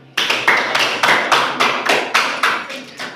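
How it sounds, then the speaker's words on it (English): Applause for a competitor who has just solved a Rubik's cube at a cube-solving competition: a small group claps in about ten distinct, fairly even bursts, close and clear with no talking over it. "So clap for him."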